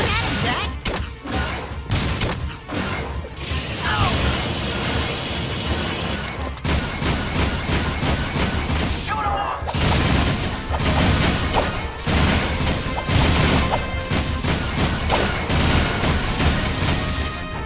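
Gunfire from the video game Jak 3, dense rapid shots and crashing impacts filling the whole stretch with steady loud bursts, mixed with game sound effects and music.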